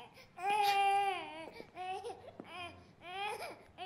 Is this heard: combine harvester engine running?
no